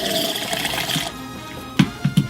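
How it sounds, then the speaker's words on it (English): Soda water poured into a mojito glass for an Asian pear mojito, a short fizzing rush of liquid that stops after about a second, followed by a few soft knocks. "a little bit of soda water"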